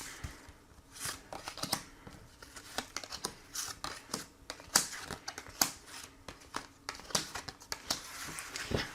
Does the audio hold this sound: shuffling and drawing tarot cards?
yes